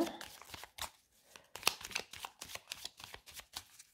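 Petit Lenormand oracle cards being shuffled and cut by hand, a quiet run of crisp riffling flutters and soft slaps repeating in an uneven rhythm, close up with no talking.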